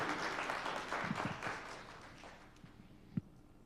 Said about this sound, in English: Let's give a round of applause to all the Girl Scouts.